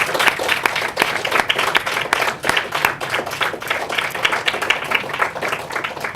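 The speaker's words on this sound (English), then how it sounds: "A big round of applause for those people" A conference audience claps for the behind-the-scenes team at the close of a summit day, a dense, lively round of applause with sharp individual claps that holds steady throughout.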